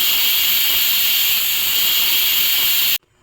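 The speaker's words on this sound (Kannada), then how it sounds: "ಕುಕ್ಕರ್ ಕೂಡ ವಿಜಿಲ್ ಹೊಡೆದೇ ಬಿಡ್ತು" A kitchen pressure cooker, cooking oil-stuffed brinjal, gives off a loud, steady steam hiss for about three seconds that cuts off abruptly into near silence.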